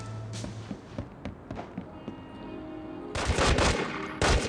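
Gunfire from The Godfather Blackhand Edition video game: scattered sharp shots at first, then dense, loud automatic bursts toward the end.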